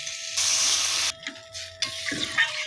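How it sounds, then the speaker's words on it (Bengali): Water is poured into a potato and prawn curry with pointed gourd, a loud close splashing gush that stops abruptly, followed by quieter bubbling and sizzling, no talking. "জল তো মা দিয়ে দিল, এবারে ফুটে উঠুক।"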